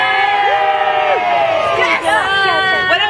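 A group of people yelling and cheering together in loud, overlapping shouts and whoops, close by, with rising and falling voices and brief dips between bursts.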